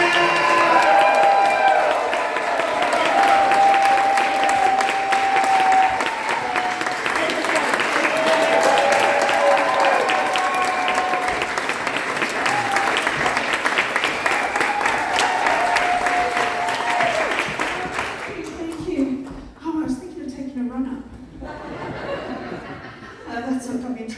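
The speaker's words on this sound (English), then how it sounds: "start the applause, start whooping and cheering" An audience at a live show breaks into sustained applause with whoops and cheers, loud and close for most of the stretch before fading into scattered claps and brief chuckles, with some talking mixed in.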